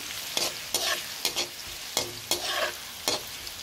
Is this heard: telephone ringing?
no